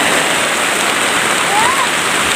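Heavy December rain pouring in the mountains, a dense continuous hiss of downpour filling the whole scene at steady loudness, with a faint voice briefly audible beneath it.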